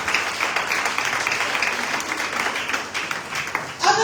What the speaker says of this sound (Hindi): आइए तालियां बजाएं बहनों के लिए।